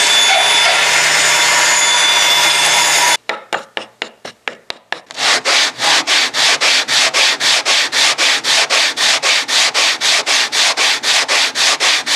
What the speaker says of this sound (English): if you use the brace sander from LMI, you'll be able to put a perfect radius on the brace every time